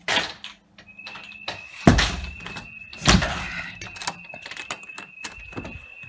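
A door opened and closed during a home security system test, with a couple of solid thumps and rattling handling noises, a steady electronic tone running underneath.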